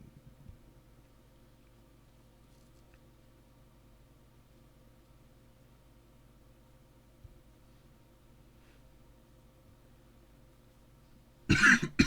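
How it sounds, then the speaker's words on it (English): A single sharp cough bursts out near the end after a long stretch of quiet low background hum. "Sorry about cough again."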